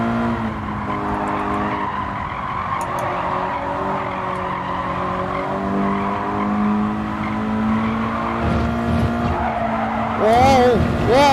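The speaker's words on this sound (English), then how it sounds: "this car is really screeching out a lot." Race car tires screech in Gran Turismo 7, a long sustained squeal over steady engine noise, rising into sharper, louder wavering squeals near the end, with a voice exclaiming at the close.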